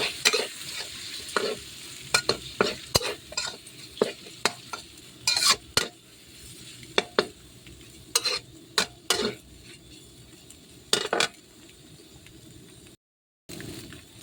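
A spatula scrapes and clanks repeatedly against a pan while pork and egg fried rice sizzles underneath, an irregular run of sharp stirring hits over a steady frying hiss with no talk.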